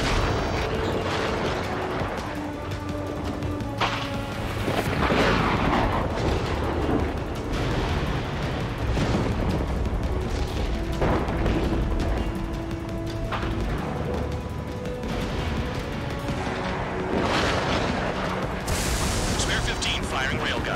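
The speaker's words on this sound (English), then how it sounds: "Spare 15 firing railgun" Railgun firing in the combat flight game Ace Combat 7, heavy booming blasts rolling over dense jet-engine roar and in-game music, with radio chatter heard throughout.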